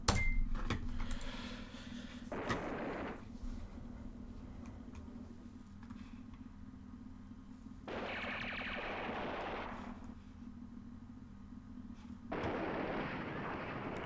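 Heavy artillery fire in the wargame Command Ops 2 at the Battle of Elsenborn Ridge: a few separate booming blasts spaced several seconds apart, each rising over a steady low hum.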